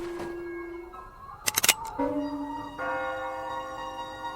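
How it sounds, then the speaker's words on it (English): Bells rung as class bells in a radio drama, appearing partway through as a sustained ringing with steady tonal lines that hold to the end, after a short burst of clatter, with no talk. "Class bells at this hour? Why would they ring now?"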